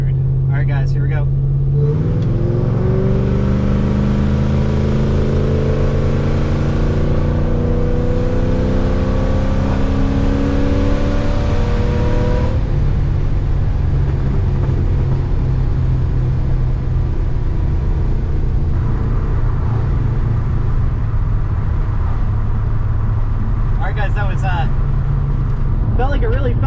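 A supercharged Ford Mustang GT 3V with a swapped 6R80 automatic transmission accelerates from inside the cabin, its engine droning and rising through the gears, then settling into a steady low rumble that fills the interior.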